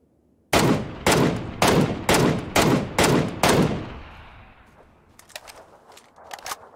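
Seven loud, evenly spaced gunshots from the video game PUBG ring out in a steady rhythm, each with a sharp crack and echoing tail, followed by fainter clicks and distant pops.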